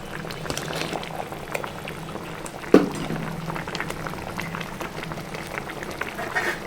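A pot of fish curry bubbling at a steady simmer, soft continuous gurgling and popping, with one sharp clink partway through.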